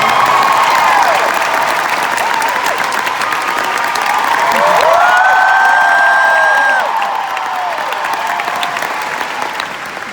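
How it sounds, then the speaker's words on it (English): Sustained audience applause fills a live concert hall during an Auckland show, dense, loud clapping with scattered whoops that holds steady for about ten seconds before easing slightly. "while you're clapping"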